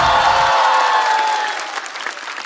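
Audience at a stand-up comedy show applauding to welcome a comedian, loud dense clapping from a large crowd that fades over a couple of seconds.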